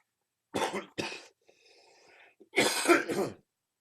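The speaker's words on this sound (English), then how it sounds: "I'll be really happy when I get rid of that cough." A person coughs, two sharp hacking coughs, then a brief rasping breath and a longer harsh burst of coughing and throat clearing, close and loud.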